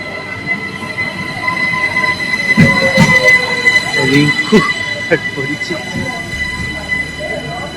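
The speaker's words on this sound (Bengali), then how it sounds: "একটা ট্রেন আসছে" A train pulls into a station in Austria with a rumbling roll, clanks and high metallic wheel squeals rising in the middle, close and loud, with voices faintly mixed in.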